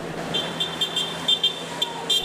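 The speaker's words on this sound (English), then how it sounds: "Supporters of the blogger honked and demonstrated outside the courthouse in Stoughton as Aidan Kearney was led inside" Car horns honk in short repeated bursts outside a courthouse in Stoughton during a demonstration, sounding at a moderate distance over steady street traffic.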